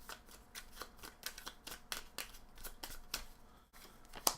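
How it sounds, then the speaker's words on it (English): Playing cards riffle-shuffled by hand during a solo tabletop game session, a quick run of crisp ruffling bursts followed by a last riffle at the close, fairly faint and heard alone without talk. "So I'm just going to shuffle."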